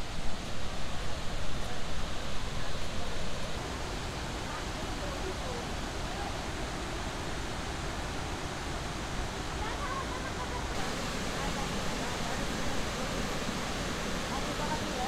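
Tirathgarh waterfall near Jagdalpur, Chhattisgarh, running in heavy flow, gives a steady, soft, rushing roar from a distance, with a voice faintly heard over it.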